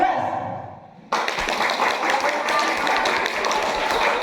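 A school staff group at a work meeting claps the Indonesian scout clap pattern, tepuk 13, together: a sudden burst of close, dense, fairly loud clapping that starts after a second of quieter murmuring and continues steadily.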